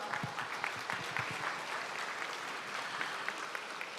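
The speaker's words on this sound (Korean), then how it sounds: "여러분 다시 한번 큰 박수 보내주십시오" An indoor audience at a formal Korean information security day ceremony applauds steadily, a dense wash of clapping at moderate distance with no voices heard over it.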